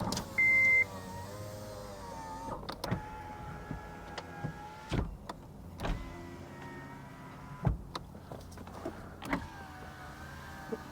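Car power windows whir up and down repeatedly, with short motor runs and a clunk as each stops, along with a brief beep at the start, close and fairly quiet.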